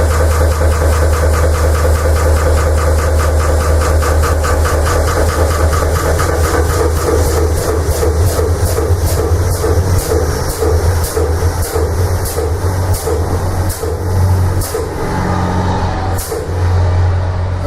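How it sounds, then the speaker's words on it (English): A hydraulic pump on a valve test rig runs to lift a seal plate into a valve flange, giving a loud, steady motor drone with a rapid rhythmic knocking pulse throughout, close by and without speech. "pump the hydraulic oil up into the hydraulic cylinders to lift the seal plate up into the flange of my valve"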